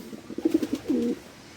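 Black velvet pigeons cooing nearby, a few soft throaty coos in a short rhythmic run ending in one longer drawn-out coo, clear against quiet surroundings.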